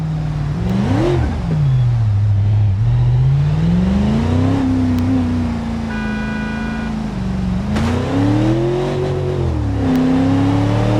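A truck engine in the BeamNG driving game revving hard, its pitch swelling and sagging in long sweeps over a loud, continuous drone with no pauses.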